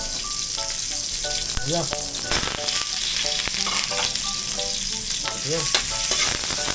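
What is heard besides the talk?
garlic sautéing in a pan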